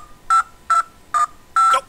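A dial-up internet modem dials a phone line, sending four crisp, evenly spaced touch-tone beeps, loud and close, each about a tenth of a second long, with the last held slightly longer and no talking.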